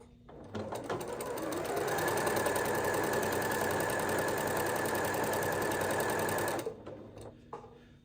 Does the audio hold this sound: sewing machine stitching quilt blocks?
yes